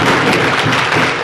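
Applause from the audience at a Bait Baazi poetry competition during an educational conference in Aurangabad, a brief, thick burst of crowd clapping heard on its own.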